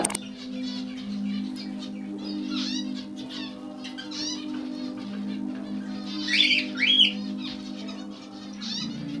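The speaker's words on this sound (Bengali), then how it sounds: "ফিঞ্চ থেকে শুরু করে লাভবার্ড আছে আর কিছু ওপরে জাভা পেয়ার জাভা পেয়ার আছে সেপারেট কেজে" Small caged finches, lovebirds and Java sparrows chirp and twitter in a soft, continuous chorus, with a steady low hum beneath and a couple of louder, sharper calls near the end; no one speaks.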